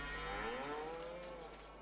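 In a farming video game, a cow gives a single faint, drawn-out low moo that slowly rises and falls over a quiet steady hum.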